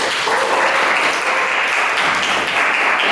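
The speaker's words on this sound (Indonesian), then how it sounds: "Oke, aplaus untuk kalian." Classroom applause for students after their presentation, a dense steady clapping from a group filling the whole stretch without pause.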